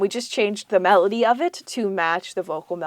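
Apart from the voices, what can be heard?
No everyday noises stand out.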